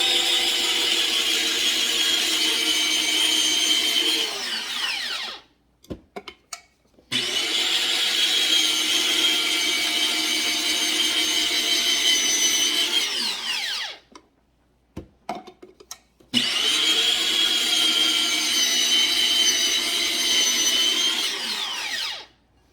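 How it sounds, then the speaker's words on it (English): A kitchen machine grates cheese with a loud, steady motorized whir. It runs in three long bursts, each several seconds, separated by short pauses with a few clunks. No one speaks. "it takes no time to grate the cheese"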